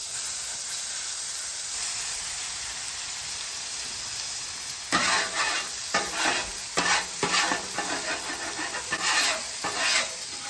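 Steaks go down on a hot griddle and sizzle, a steady hiss of frying that turns into louder bursts of crackling and spitting partway through, close by with no talking.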